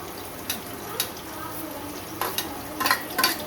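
Chopped onion dropped into hot mustard oil with cumin, giving a soft steady sizzle with light spoon taps and stirring clicks, no talk.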